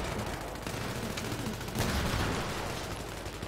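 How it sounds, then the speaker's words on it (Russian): Gunfire in Battlefield 3 on Noshahr Canals: a continuous roar of game noise with a single stronger booming shot about midway, up close and fairly loud, no voices. "Вплотную стрельнул."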